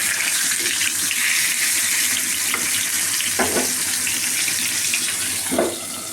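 A large silver carp sizzles as it fries in a pan, a steady broadband hiss of hot oil holding throughout with a few sharper spits and pops, close and fairly loud.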